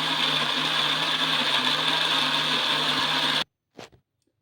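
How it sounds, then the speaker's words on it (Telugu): An electric mixer grinder whirs steadily and loudly for about three and a half seconds as it blends sago idli batter, then cuts off abruptly, leaving a brief faint knock. "మిక్సీ పట్టేసుకున్న దాన్ని ఇంకా బౌల్లోకి అయితే వేసుకుంటానండి"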